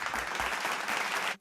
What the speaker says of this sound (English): You might as well add in a stock applaud sound after every line she says right